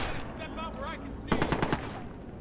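Gunfire in the Watch Dogs video game: a quick rattling burst of rapid shots near the end, following a faint game voice over background noise.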